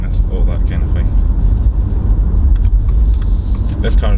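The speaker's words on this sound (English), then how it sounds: "It's a wee bit noisy under harsh acceleration." Engine of a 2020 Subaru Outback 2.5L SE Premium under harsh acceleration, a loud droning rumble that holds steady throughout, with a voice talking over it.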